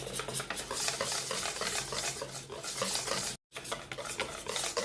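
Brioche dough is stirred in a bowl with a utensil, giving a steady scraping, clinking mix of strokes that runs continuously close up, broken by one brief silent gap near the end.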